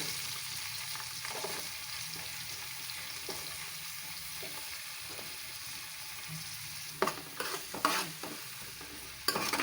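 Cumin seeds and onions fry with green chilies in a pan, giving a steady, even sizzle throughout, with a few sharper scraping clatters near the end.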